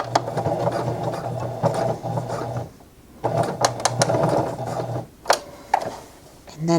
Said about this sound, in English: I'm going to turn and sew a diagonal seam